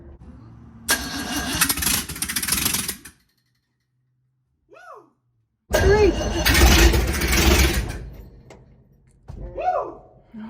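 An old 1954 car engine cranks and catches twice, loud and close, with a silent gap between the attempts and brief voices in the pauses.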